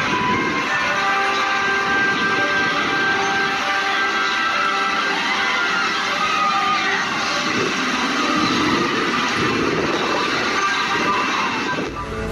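A ride on the Mako hyper roller coaster at SeaWorld Orlando gives a loud, continuous rushing roar of wind and rattling track noise that holds steady before easing off at the very end.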